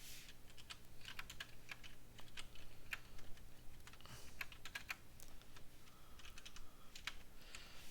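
Someone types C# code on a computer keyboard, a steady run of quiet, close key clicks at irregular speed with brief pauses. No voices are heard.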